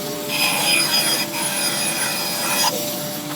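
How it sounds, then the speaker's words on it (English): Bandsaw roughly cutting a wooden Les Paul-style guitar body out of a marked blank, with a continuous rasping cut up close and brief dips in pitch as the feed changes. "Cut this out roughly on the bandsaw."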